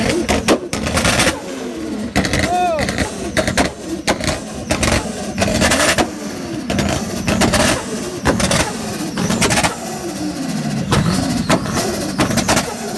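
A stock Nissan R34 engine revs repeatedly in a rev battle, loud and close, with bursts of throttle and crowd noise throughout.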